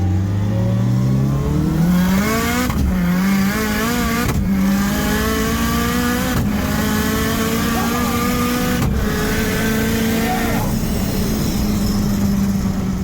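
A tuned Datsun race car runs hard on a dyno, aiming for about 800 at the wheels. Its engine pulls up through the revs in loud, rising sweeps, broken by several sharp gear shifts.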